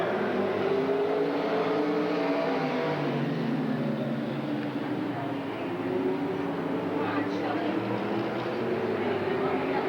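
Race cars roar around the track on the final lap of the 1987 Roseburg Outlaw 100, a loud continuous engine drone with rising and falling pitch as they pass, under an announcer's commentary.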